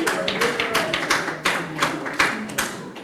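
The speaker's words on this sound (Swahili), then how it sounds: "Tumpigie makofi" A small audience claps for a female artist being introduced on stage, with irregular sharp individual claps spread through the crowd, moderately close and without talking.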